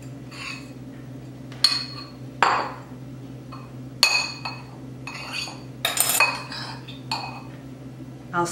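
A spoon mixes a twice-baked potato filling of potato, shallot and shredded Monterey Jack and cheddar in a bowl: scattered sharp clinks and scrapes of metal on the dish, separated by quiet gaps.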